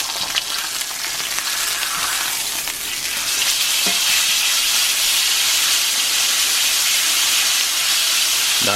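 A ribeye steak sizzles loudly and steadily in a hot cast iron pan just after being flipped, a dense, continuous frying hiss with no talk over it.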